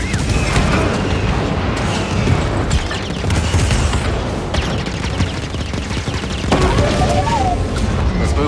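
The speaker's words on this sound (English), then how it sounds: "So that fires the cannons." Dense, continuous barrage of spaceship cannon fire in Star Wars Jedi: Fallen Order, with booming low rumble and crackling bursts, loud and sustained throughout.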